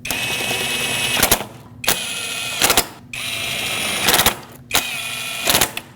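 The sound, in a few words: tightening solenoid bolts on a Lexus IS250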